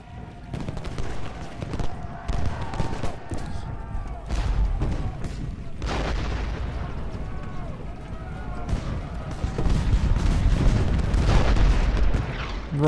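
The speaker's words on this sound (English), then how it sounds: "Riding in under cannon fire." Cannon booms and rattling musket volleys from the Civil War strategy game Ultimate General: Gettysburg rumble in repeated bursts, with someone talking over the battle throughout.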